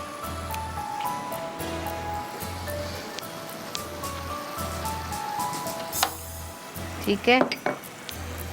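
Qeema with cream frying on a tawa gives a soft continuous sizzle under a repeating low hum, with a few utensil clatters near the end and a brief spoken word.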